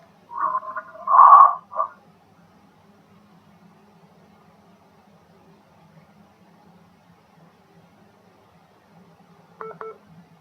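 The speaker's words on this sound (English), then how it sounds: "Looks like I have a call waiting, so we'll wait for that to stop." Call-waiting beeps from a phone on speaker, a short cluster of warbling tones near the start and a brief pair of beeps near the end, separated by a long, nearly silent gap.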